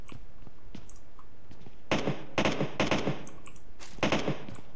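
Gunfire in PUBG Mobile, several loud bursts of rapid shots with short gaps between them, standing out against quieter background sounds.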